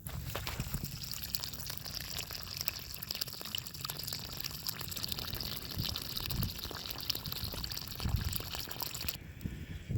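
Rainwater drains out of a pool cover through a garden hose, a steady, close watery rush and trickle running continuously with no voices.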